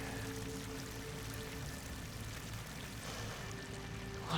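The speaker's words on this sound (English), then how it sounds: "Water's coming in." Water pours and rushes into an enclosed pit with slick walls in Horizon Forbidden West, a steady, dense broadband wash with a low rumble that holds continuously throughout, with no voices over it.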